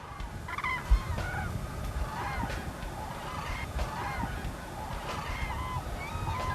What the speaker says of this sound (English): the fields surrounding the great bog come alive with hundreds of cranes